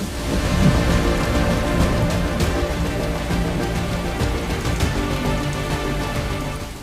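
Heavy monsoon rain pours in a dense, steady roar in Tapi, Gujarat, loud and close, with low thunder rumbling underneath throughout.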